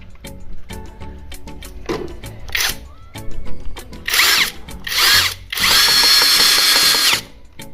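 A power drill drives a screw into a lamp-socket fitting in short bursts of rising whine, the longest near the end, with handling clicks and taps between them, loud and close.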